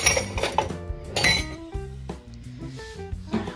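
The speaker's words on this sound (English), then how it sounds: "I kind of heard you put the cup in the sink" Cup set down in a kitchen sink among dishes, a quick run of bright clinks and clatters at close range, with a few ringing tones fading out after.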